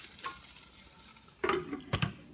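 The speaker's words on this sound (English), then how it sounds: "we will saute this for 5 minutes." Pinakbet vegetables sauté in a pan with a faint, quiet sizzle, broken by a couple of close stirring scrapes near the end.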